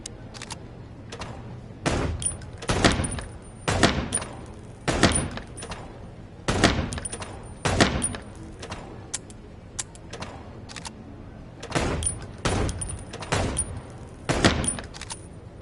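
Gunfire from the video game Chicken Police, heard as sharp, repeated shots in irregular bursts against a quiet, steady game backdrop, fairly loud and close, with no talking over it.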